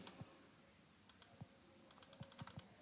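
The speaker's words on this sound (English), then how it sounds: "when I click it" Crisp, close computer mouse clicks ring out in a quiet room, first singly, then in a rapid run of about eight clicks, each a sharp little tick.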